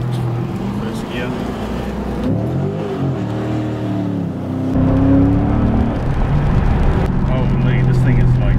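A 2016 Chrysler 300C SRT8 accelerating hard, its engine note rising through the gears with a loud, steady roar, a short dip in the middle and then a surge, while someone talks over it from inside the car.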